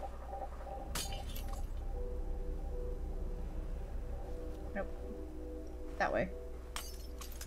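A thrown glass bottle shatters with a bright, brief crash in the video game We Happy Few, set against a steady low game hum, while a voice speaks briefly.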